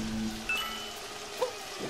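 Steady rain patters through a rainy city stage in Super Mario Odyssey, a soft continuous wash with a faint tone and a couple of brief clicks, no talking.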